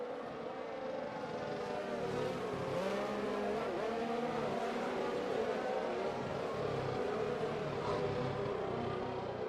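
Race cars in a sim racing video game, Italian Grand Prix, engines droning steadily with shifting revs as cars run past, continuous and moderately loud with no voices.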